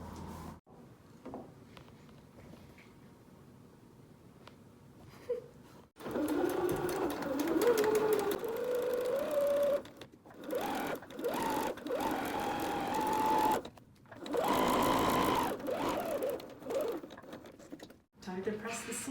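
A sewing machine stitches cushion fabric in several bursts of steady whirring, quiet at first and then close and loud, with short pauses between runs and someone talking near the start.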